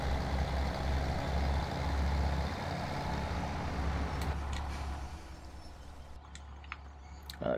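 A semi transport truck in Farming Simulator 2017 rumbles with a low steady diesel drone that fades, then short beeps and clicks sound near the end.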